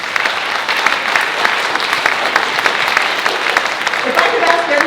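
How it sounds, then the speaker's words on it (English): Audience applause for school custodians at a district state-of-the-schools address, a steady dense wash of clapping from a large crowd that holds for several seconds without letup. "So let's clap it up for our custodians."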